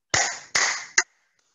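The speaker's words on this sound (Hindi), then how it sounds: "और एक ताली बजाने का अभ्यास है" Three loud, close hand claps ring out in a yoga session's clapping exercise, two sharp claps with short decaying tails followed by a quicker third, then silence.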